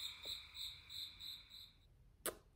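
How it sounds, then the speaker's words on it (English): Crickets chirping in a steady pulsing rhythm, several chirps a second, then stopping abruptly before a single sharp click. "Crickets."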